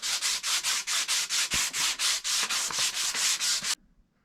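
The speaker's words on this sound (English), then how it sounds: "while I was sanding the end of the handle" The wooden handle of an ice axe, clamped in place, is sanded by hand in about fourteen steady rhythmic back-and-forth strokes of rough rasping, close and loud, then it stops abruptly.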